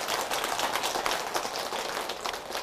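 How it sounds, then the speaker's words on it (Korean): An audience at a Buddhist monk's talk gives a short burst of applause, dense steady clapping that sounds fairly soft and distant throughout. "또 박수 한번 드리세요."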